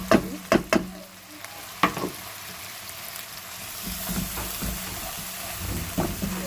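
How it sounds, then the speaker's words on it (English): Ginger garlic paste fries in oil for a fish gravy, a steady low sizzle after a few sharp knocks of a spoon against the pan, close and without talk. "Need to fry it. Ginger garlic paste."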